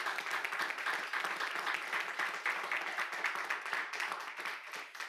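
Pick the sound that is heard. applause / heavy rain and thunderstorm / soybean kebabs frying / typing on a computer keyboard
applause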